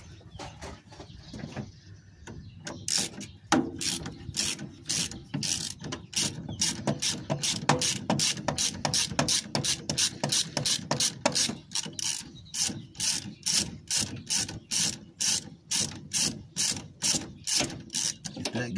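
A ratchet wrench with an extension clicks as it works a bolt loose on a 1998 Subaru Legacy 2.2 L, a long, even run of close, rhythmic clicks.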